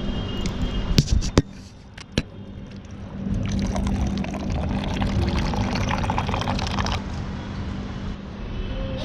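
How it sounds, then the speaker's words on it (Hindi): Drinking water pours steadily into a container for several seconds in a Japanese garden, preceded by a few sharp clicks and knocks. "प्यास लगी पानी की, थोड़ा पानी पिया जाए."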